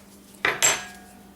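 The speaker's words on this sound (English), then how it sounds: "now you're going to kind of whisk that up a little bit with your fork." A fork clinks twice against a bowl while biscuit dry ingredients get whisked and fluffed, two quick close metallic taps with a short ringing tail, no voices.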